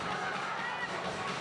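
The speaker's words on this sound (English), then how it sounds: "Look at this crowd." A crowd fills the stands at a college softball game between Binghamton and Oklahoma in Norman, a steady wash of distant chatter and murmur with a commentator talking over it.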